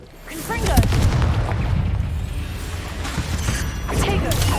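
Repeated Confringo blasting-spell explosions in the Hogwarts Legacy video game, loud booming bursts with rumbling tails and crackling debris, mixed with spell-casting effects.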